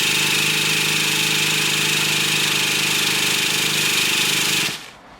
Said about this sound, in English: If there's a little bit of fuel left in the lines, it'll idle for about 20-30 seconds and then die off